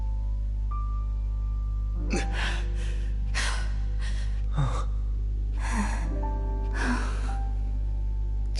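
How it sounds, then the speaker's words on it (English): Anime-style breathing from the video game Soul Hackers 2: a run of sharp, breathy gasps and sighs in uneven bursts, set over a steady low background hum. "That was a lot of anime breathing."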